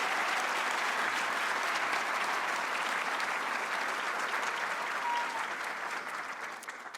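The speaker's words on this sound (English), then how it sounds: "Let's give you a round of applause for that accomplishment." Sustained applause from a sizable crowd, steady clapping that holds evenly and tapers slightly at the end.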